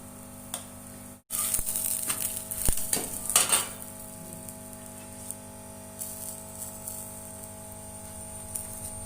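A potato paratha cooks in ghee on a pan with a soft, quiet sizzle, broken early by a short burst of clattering and turning noises before settling back to a faint fry.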